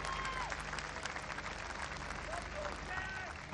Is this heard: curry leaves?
no